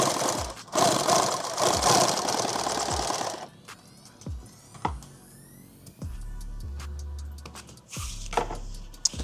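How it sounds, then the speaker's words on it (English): A sewing machine stitches a fabric sleeve for a padded war belt in loud, fast whirring runs with a clattering rhythm, broken by pauses, clicks and brief motor stops, close and clear. "sew this inside out"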